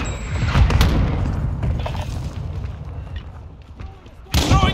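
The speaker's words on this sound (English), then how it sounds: "Mortar strike inbound." Mortar strike explosions in Call of Duty Modern Warfare 2 Team Deathmatch on the Shoot House map: a heavy booming blast rolls on for several seconds, then another sharp, loud impact lands near the end.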